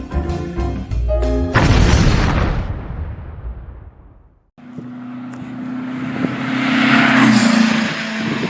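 An air-cooled VW car with an EMPI Hurst-style shifter revs and pulls away on a test ride, its engine droning loudly, dropping off briefly, then rising again in a sustained run.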